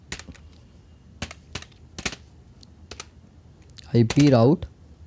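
Router commands typed at a terminal on a computer keyboard, sharp separate keystrokes spaced out in a slow uneven rhythm, close and crisp, followed near the end by a brief spoken voice.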